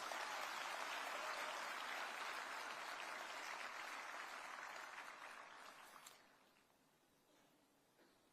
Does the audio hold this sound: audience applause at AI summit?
yes